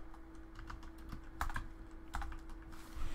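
Keys tapped on a computer keyboard to enter a postal code, a short run of soft, quick clicks over a steady low hum and background noise, no one speaking.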